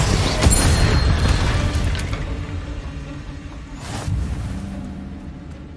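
A booming Bombarda explosion spell in the Hogwarts Legacy video game, heard as a loud rumbling blast at the start that fades, then a second softer burst around four seconds in.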